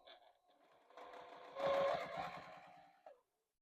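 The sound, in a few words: sewing machine stitching quilted star patches together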